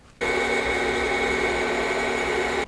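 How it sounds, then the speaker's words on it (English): A drill with a 17/64 bit bores into a metal plate, a loud steady whine that starts abruptly and holds for over two seconds before cutting off, with no talking. "go ahead and start drilling"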